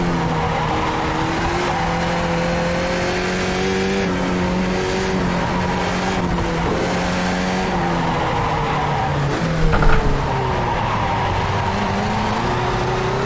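Skip Barber race cars in the iRacing video game at Long Beach, loud engines revving up and down through the gears with rising and falling tones and brief tire squeals, continuous and close throughout.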